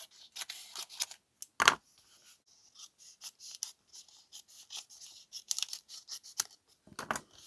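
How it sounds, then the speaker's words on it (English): Scissors snip close up, trimming back craft material in a run of short, crisp cuts with brief pauses between them. One louder snip stands out. No one speaks. "I'm just going to cut this back a little bit."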